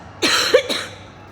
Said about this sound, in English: This is the first time I've started coughing.